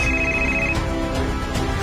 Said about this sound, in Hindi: लेकिन तभी उसका फोन बजा।